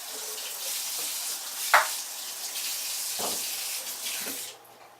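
Running water from a tap rinses the outside of glass jars of unsalted cultured vegetables, giving a steady hiss with a few clinks and bumps of the jars before the flow stops.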